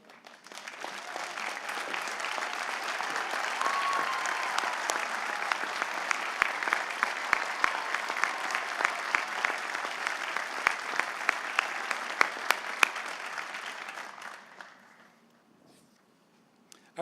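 Sustained applause fills a hall at a St. Norbert College commencement ceremony as awardees and new professors emeriti stand, loud and even for about fourteen seconds before tapering off into near silence.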